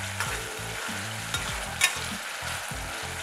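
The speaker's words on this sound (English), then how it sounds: "Add a pinch of salt at this stage and stir continuously," Chopped onions and tomatoes with a pinch of salt fry in a pan for Kolhapuri misal, giving a constant close sizzle with soft stirring scrapes and a faint low rhythmic background.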